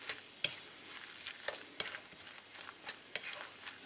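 Quartered Brussels sprouts are stirred into bhaji batter, with sticky, wet mixing sounds and a few sharp clinks of utensil on bowl spaced about a second apart. It is close and fairly quiet, with no voices.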